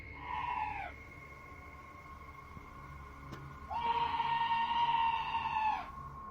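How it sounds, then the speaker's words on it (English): A shrill, wavering scream rings out outside the door of a trailer at night, heard as two drawn-out cries with a long gap between them, the second longer and louder, over a faint background hum. "this scream sounds like chills made audible, happening outside the door of what appears to be a trailer."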